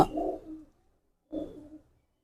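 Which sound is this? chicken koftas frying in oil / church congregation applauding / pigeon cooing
pigeon cooing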